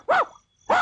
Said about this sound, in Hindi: जोर से भौंको।